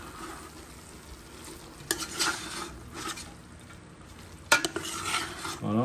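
Greens and pork stirred together in a sizzling pan, with a utensil scraping and clinking against the metal over steady frying noise, loudest near the end.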